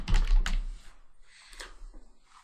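Quick keystrokes on a computer keyboard while entering text in Microsoft Word, a close burst of clicky taps at the start and a second cluster near the end, with no talking.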